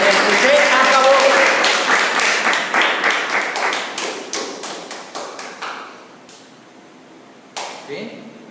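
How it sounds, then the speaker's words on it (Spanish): A church congregation claps together, a burst of loud applause that thins and fades over several seconds, then a short renewed flurry near the end. "denle el aplauso a él"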